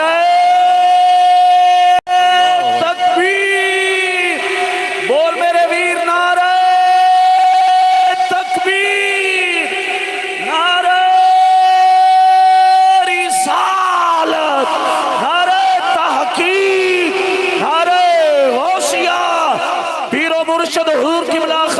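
A large crowd at a religious gathering in Chunian, Kasur district, roars a religious slogan in unison in answer to the Naara-e-Takbeer call. The chant comes in loud, sustained waves of many voices that rise and fall for over twenty seconds.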